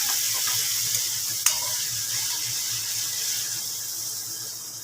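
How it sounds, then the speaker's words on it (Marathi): Green chillies fry in oil in a pan for a spicy Maharashtrian brinjal bharta, giving a steady, bright sizzle throughout with one sharp clink of a utensil near the middle. "छान फ्राय करायचं आपल्याला त्याच्यात व्यवस्थित"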